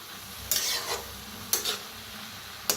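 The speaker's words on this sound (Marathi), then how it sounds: "मिक्स करत ना भाजायचं सगळा मसाला, म्हणजे चांगला भाजला जातोय." Masala roasts in a pan while a spoon scrapes through it in three distinct stirring strokes, each a bright rasp over a low, steady sizzle.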